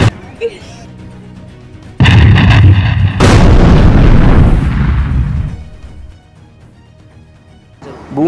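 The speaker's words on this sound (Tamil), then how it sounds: "வாகனங்கள் வெயிலின் காரணமாக திடீர் வெடிப்பு." A heavy vehicle explosion erupts suddenly, then a second burst follows, with a long rumbling roar that slowly dies away; faint voices sit before it.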